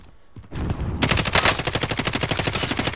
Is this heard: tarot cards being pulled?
no